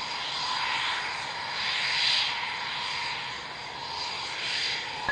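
Eurofighter Typhoon jet taxiing at the RAF Waddington Airshow 2013, a steady, fairly distant engine roar that swells and fades slightly throughout, with no voices.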